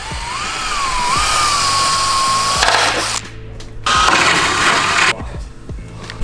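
Power drill boring holes into a carbon fiber front lip on a Subaru BRZ: a high whining motor rising in pitch, a loud grinding bite through the material, then short renewed bursts with brief silent gaps, close up.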